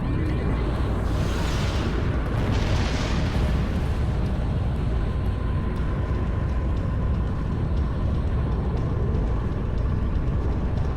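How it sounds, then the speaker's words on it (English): A starship self-destructs in the Star Trek Online game, a loud, sustained, deep rumbling blast that roars steadily for several seconds without fading. "Admiral Voth's ship is set to self-destruct."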